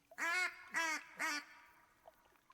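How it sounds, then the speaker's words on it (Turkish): Three loud, close duck quacks in quick succession from the hunting video game theHunter: Call of the Wild, with rain in the background, followed by quiet. "Evet arkadaşlar 4-5 tane geliyor ördek ama"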